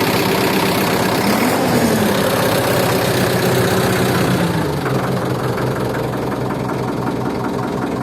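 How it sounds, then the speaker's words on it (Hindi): A Solis 110HP farm tractor's diesel engine runs close and loud, a dense rumbling idle that settles into a steadier, slightly lower throb partway through. "मैं इसको स्टार्ट करने जा रहा हूँ ट्रैक्टर को"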